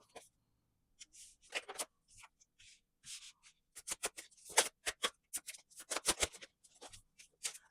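Tarot cards being shuffled by hand, close and quiet, with bursts of riffling and soft slaps in irregular clusters separated by short silences, no talk.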